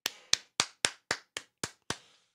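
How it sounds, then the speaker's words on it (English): Eight sharp hand claps in an even, fairly quick rhythm, each a crisp close smack followed by brief decay, with silence between them. "That was the big clap for him."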